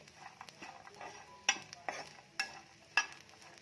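A metal spoon stirs and scrapes dry bombil fish roasting in a dry pan, producing soft rustling and a few sharp clinks against the pan, quiet and close.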